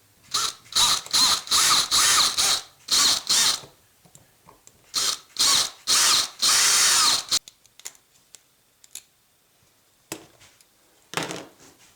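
Drilling out rivets on the front bumper of a Kenworth T800 model truck: a series of short, loud power-drill whirring bursts in quick succession, then a pause of small clicks and fiddling, and a couple more brief bursts; close, no talking.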